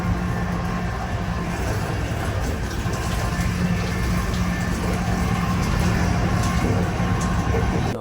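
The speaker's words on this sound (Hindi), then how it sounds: "दोस्तों फिलहाल आ चुका हूँ नहाने और पानी में काफ़ी ज़्यादा ठंडा है यार।" Cold shower water runs steadily while bathing in the washroom of the Shri Shakti AC Express train, a continuous broadband rush mixed with a low rumble from the moving train, with no talking.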